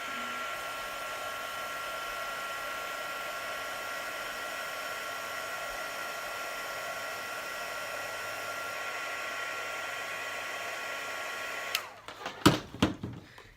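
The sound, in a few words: heat tool heat-setting embossing on a card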